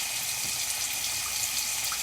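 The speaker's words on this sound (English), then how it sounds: "I'm pouring a little bit of vinegar" Vinegar poured into a container for cleaning makeup brushes, a soft, steady trickle of liquid that runs faint and unbroken, with no voices.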